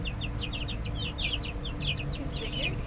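Backyard chickens, including a small yellow one, make quick chirpy clucks and peeps in rapid bursts over a steady low outdoor rumble.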